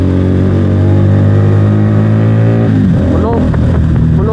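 A car's exhaust drones loudly while riding, with a strong low, steady engine hum and harmonics that shift in pitch partway through as the engine note changes, heard close up with some wind buffeting.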